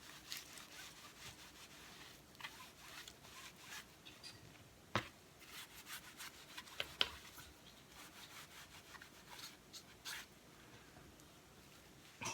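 Wiping down the sides of a silicone-coated acrylic pour painting to prepare it for varnish, heard as a quiet, steady rubbing and swishing with a few sharper scuffs, close up and with no talking.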